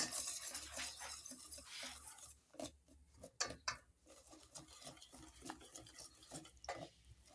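Flour being stirred into a liquid doughnut batter, with soft, irregular scraping and sloshing strokes of a utensil against a bowl, close by and fairly quiet, with occasional light clinks.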